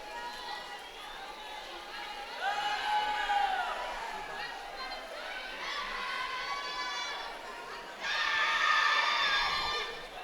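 Teammates at a high school swim meet shouting and cheering their swimmers on from an echoing pool deck, with overlapping voices that swell in bursts, loudest near the end, while crowd chatter runs underneath.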